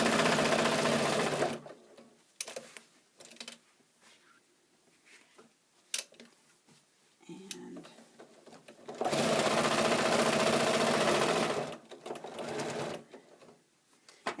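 A sewing machine stitches down quilt binding in loud continuous bursts, a long run at the start and another in the middle, with quieter pauses between as the fabric is turned at the corners.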